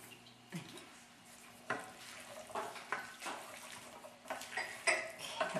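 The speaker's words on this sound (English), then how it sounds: "Then we're going to add some garbanzo beans." Drained, rinsed canned garbanzo beans tumble into a pan of African-style chicken stew, giving soft wet splashes and light clatter against the pan in several irregular bursts, moderately close, with no talk.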